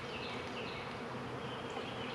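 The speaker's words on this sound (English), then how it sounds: "I got a couple bees on the top that are really trying to get in through the hole" Honey bees buzz steadily and close around the top of a hive holding newly installed packages, a continuous droning hum with individual wingbeats rising and fading.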